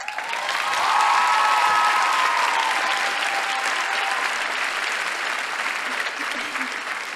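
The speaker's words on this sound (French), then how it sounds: "vous allez applaudir aussi fort" An audience at the Gala Forces AVENIR au Secondaire 2018 breaks into loud sustained applause with some cheering, swelling at the start and holding as a thick wall of clapping.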